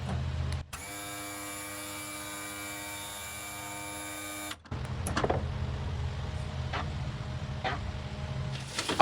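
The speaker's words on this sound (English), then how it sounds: "we're going to cycle the lift up and down a few times" A hydraulic car lift running in a workshop gives a steady electric pump whine with a harmonic hum for several seconds, then cuts off and is followed by hissing fluid release and clunking, with no voices.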